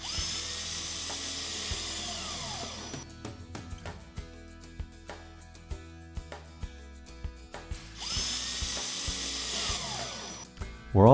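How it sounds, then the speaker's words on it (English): A power drill drives deck screws into a wooden stringer for a tub base, sounding as bursts of high whining that start, cut off, then run again near the end, with brief clicks and knocks between runs. "fasten the stringer into place with deck screws"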